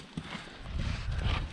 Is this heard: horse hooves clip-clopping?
yes